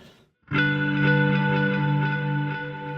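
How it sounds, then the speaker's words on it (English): Guitar notes swell into a very long reverb tail from an Empress pedal, a lush sustained wash ringing steadily after a short silent gap at the start. "I'm going to put a very long form reverb on my Empress over here."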